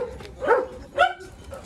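Dog on a street in Lo Barnechea, Santiago de Chile, giving two separate barks about half a second apart, moderately near, over low outdoor background noise.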